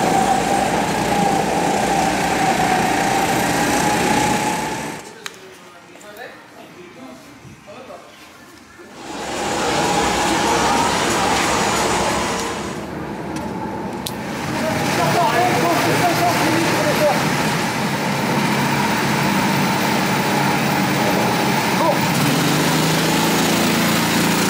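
Racing kart engines buzz loudly and steadily during an endurance race, a continuous high-pitched drone that briefly dips for a few seconds before returning at full strength, with someone talking over it.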